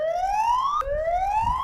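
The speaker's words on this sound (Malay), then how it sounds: "Bila aku tekan siren ni" The built-in siren of a smart WiFi CCTV camera wails loudly and alone, one rising electronic sweep climbing steadily, then dropping and climbing again in a repeating cycle.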